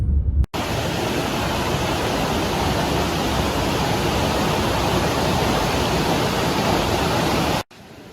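Creek water rushes steadily at a campsite creek, a loud, broad continuous gurgling hiss that starts abruptly and cuts off near the end, with no voices.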